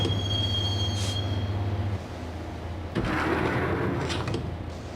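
In the video game Max Payne, a train rides toward a station with steady rolling rail noise and sharp wheel squeals, then a loud metallic clunk and rushing rattle about three seconds in.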